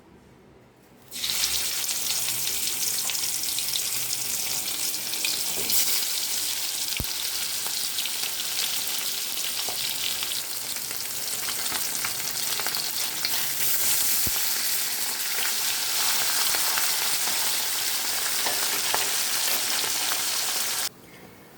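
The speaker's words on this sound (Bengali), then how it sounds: "মাছটা ভেজে নিই।" Khoira fish frying in hot oil, a steady loud sizzle that starts abruptly and runs continuously for about twenty seconds before cutting off, with a couple of faint clicks and no talking.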